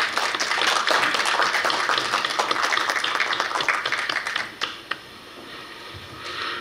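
Audience applause welcoming a student at a Korea University graduate school entrance ceremony, a steady dense wash of clapping for about four and a half seconds, then thinning to a few scattered claps and a quiet room.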